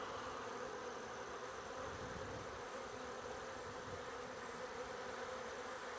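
Honeybees buzzing steadily around a hive during orientation flights, a dense continuous hum of many wings filling the air with no voices.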